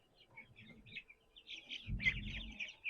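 Soft high-pitched peeping chirps from ducklings on a Ukrainian village farm come in a steady stream, with a low rumbling shuffle rising briefly underneath.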